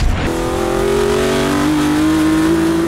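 An Aston Martin Victor hypercar's V12 engine revs hard, a loud, close, sustained howl that climbs steadily in pitch over a few seconds, with no talk over it.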